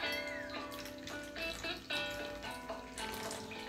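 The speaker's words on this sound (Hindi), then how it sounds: "अब नेक्स्ट स्टेप है पानी, पानी से पूरा मिलाना। चलिए मिलाते हैं पानी।" Water poured from a tap-like flow into a lime and sand mix for homemade brick moulds, a faint close splashing and trickling with uneven bursts, no talking.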